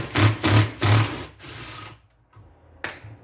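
A ratchet loosens the bolts on a thermostat housing of a 5.0L Coyote F-150, giving three loud, close bursts of rapid clicking, then a fainter clack after a short pause.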